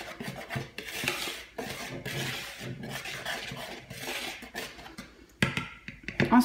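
Batter of flour, baking powder, vanilla sugar and sugar for vegan pancakes is whisked in a bowl, a steady scraping, clinking rhythm of the whisk against the bowl with a sharper knock near the end.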